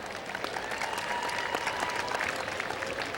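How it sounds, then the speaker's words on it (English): A crowd at a county fair demolition derby gives a steady round of applause, dense and continuous from a distance, with no speech over it. "give them a big round of applause"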